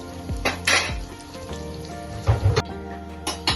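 A lid goes onto a pan of bell peppers cooking over low gas: a few close metallic clinks and knocks stand above a soft, steady sizzle.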